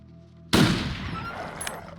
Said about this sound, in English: I'm gonna have to shoot, aren't I?